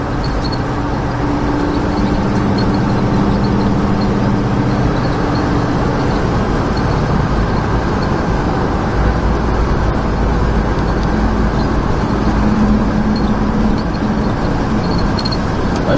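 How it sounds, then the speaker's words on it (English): A 1987 Dodge Ramcharger cruises along a road at about 45 mph, its steady engine drone and road noise holding constant and fairly loud throughout, with no talking. "Nice running Ramcharger."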